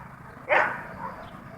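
One short, sharp bark bursts out from dogs play-wrestling and sparring, heard against quiet background noise.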